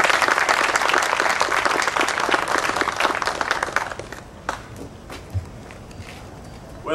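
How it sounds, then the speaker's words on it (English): An audience at a university veterans center dedication claps in a loud, dense burst of applause that fades after about four seconds, leaving a few footsteps and faint knocks. "Let's give Edwin a round of applause as he comes forward."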